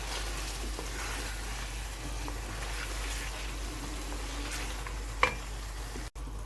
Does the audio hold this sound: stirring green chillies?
yes